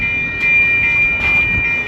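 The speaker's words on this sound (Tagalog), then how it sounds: "Dadaan na to train na to." A train rumbles past at close range, a loud, steady roar with a sustained high tonal whine, heard alone without talking, somewhere in Edmonton, Alberta, Canada.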